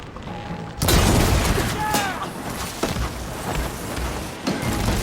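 Gunfire and booming blasts in the video game Horizon Forbidden West during a battle, a sudden loud burst followed by sustained rumbling impacts with shouted game dialogue over it.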